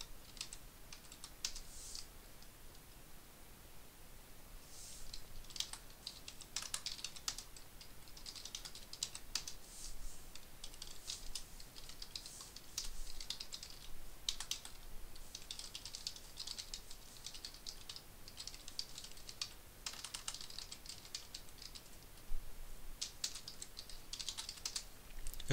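Commands are typed on a computer keyboard in uneven bursts of quick, light key clicks, close and fairly quiet, with short pauses between runs and no talking.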